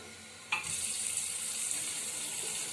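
A tap reopened on a Titán electric water heater, with a sudden click and gush as the water starts, then a steady hiss of running water, fairly close and continuing without speech.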